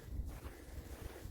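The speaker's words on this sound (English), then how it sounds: "It's windy and snowing, but it's not terribly cold." Wind blows steadily outdoors in windy, snowy weather, a faint low rumble buffeting the microphone with slight gusty swells.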